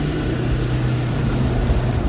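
A 16-year-old Land Rover Discovery accelerates with the window rolled down, its engine a loud, steady low drone with a rising rumble that fills the cabin throughout.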